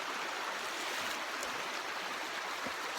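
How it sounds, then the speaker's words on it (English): A creek runs past a campsite in Cherokee National Forest, Tennessee, giving a steady broadband rush of flowing water that is continuous and moderately near with no voices. "We got this nice creek"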